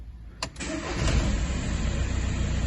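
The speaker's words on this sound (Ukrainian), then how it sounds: "Не натискаючи газ, включаємо запалення і пробуємо." A car engine cranks briefly with the ignition, no gas pedal pressed, then catches and settles into a steady idle, close and loud, in a repair workshop.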